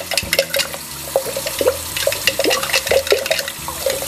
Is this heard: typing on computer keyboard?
no